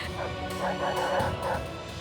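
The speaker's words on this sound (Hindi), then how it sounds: "चिल्ला चिल्ला के बार बार यही तो कह रहे हैं ये कुत्ते।" Several dogs bark and yelp over and over in an agitated, continuous chorus, layered with whimpers and set under a dramatic scene in a dungeon cell.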